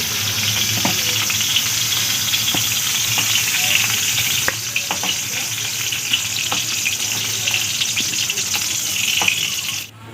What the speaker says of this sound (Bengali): পটলগুলো আমি ভেজে নিয়েছি এইভাবে